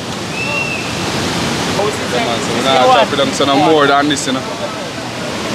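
A waterfall and surf on an island shore make a loud, steady rushing roar throughout, with people talking over it.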